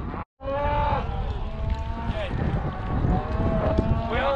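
Cattle bellow and moo during a cattle drive, several drawn-out calls overlapping on a noisy outdoor field, with a steady rumble of movement beneath and a brief dropout near the start.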